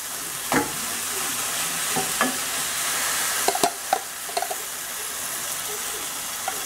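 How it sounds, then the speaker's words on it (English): Food sizzles steadily in a hot pan, a constant close hiss broken by occasional clicks and taps of stirring. "you want to hear that nice sizzle"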